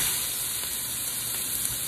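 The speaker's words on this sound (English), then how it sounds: "So you keep frying the onions." Constant crackling sizzle of onions frying in a hot pot, a dense hiss with small pops, close up and uninterrupted.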